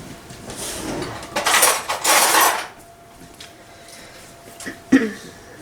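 A spoon knocks and scrapes in a bowl while a mixture is stirred in a home kitchen, close and uneven, with a few rushes of noise and scattered clinks.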